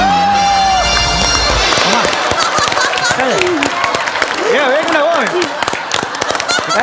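A studio audience at a Marathi comedy show applauds and cheers loudly while performers keep talking and laughing over the noise, with the crowd clapping throughout.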